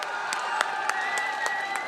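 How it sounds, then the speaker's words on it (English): A crowd at the ESL Pro League grand final in Dubai claps and cheers for Virtus.Pro, a steady wash of applause with scattered sharper shouts heard from a distance. "One more time, please, a round of applause for Virtus.Pro."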